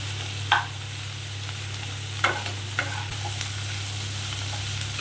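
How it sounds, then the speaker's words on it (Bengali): Cashews and raisins fry with onions in a pan on a gas stove, a soft steady sizzle over a low hum, broken by a few brief scrapes of stirring. "সব শুদ্ধ একসঙ্গে ভাজতে থাকবে যতক্ষণ একটু নরম হয়।"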